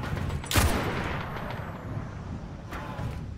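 A Destiny fusion rifle fires: one sharp loud shot near the start, a fainter shot later, and a rumbling battle ambience between them, with no talking.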